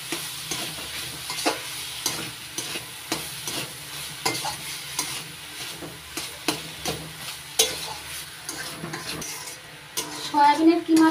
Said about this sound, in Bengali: সয়াবিনের কিমা দিয়ে ভালো করে নাড়াচাড়া করে মিশিয়ে নিচ্ছি মশলার সঙ্গে